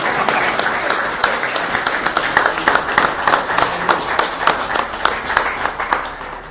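An audience at a book presentation for "Todo mientras Diego" applauds Gustavo Lombardi, steady close clapping with distinct individual claps pulsing throughout.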